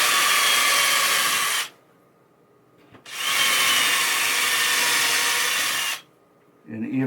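A power drill drives screws into wood during repair work on a 1978 Bally Playboy pinball machine, two long steady whirring runs of a few seconds each, loud and close, separated by a short pause, with a brief voice at the end.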